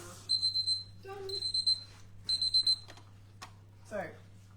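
A kitchen soup timer alarm beeps in quick bursts of rapid high chirps, three groups in a row, with a low hum underneath and a brief voice at the end.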